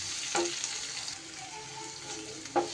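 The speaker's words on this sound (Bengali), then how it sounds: "গ্যাসটা কমিয়ে নিয়ে এইভাবে একটু মশলাটাকে ভেজে নিলেই হবে" A spice mix fries gently in a pan over a low gas flame, giving a steady soft sizzle with a couple of brief louder stirring scrapes.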